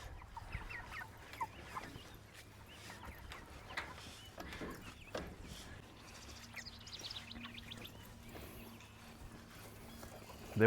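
Meat chickens clucking on fresh grass, scattered calls from several birds moving around nearby, with rustling and footsteps over a steady low background hum.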